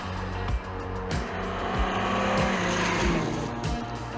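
A Camaro pulls away with a loud, sustained engine roar that holds steady throughout, broken by a few quick shift-like dips, heard close with no talking.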